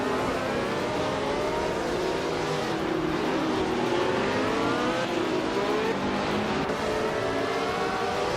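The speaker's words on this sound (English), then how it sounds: "The F1 1967 cars are pretty evenly matched" Racing video game with 1967 Formula 1 cars on a tight-cornered circuit: continuous loud engine whine, several cars overlapping with rising and falling revs, steady and dense throughout.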